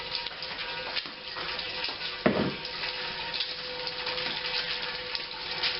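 Wort runs from the mash into the brewing kettle for an imperial porter, a steady close trickle and splash with a few louder gushes, alone without talk.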